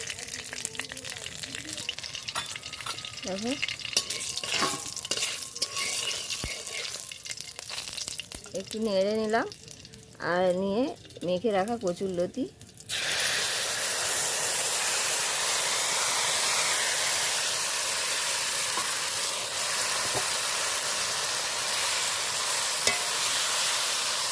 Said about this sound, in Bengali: দেখো তেল গরম হয়ে গেছে আমি দেখো দিয়ে দেবো কালো জিরে ফোড়ন আর দুটো কাঁচা লঙ্কা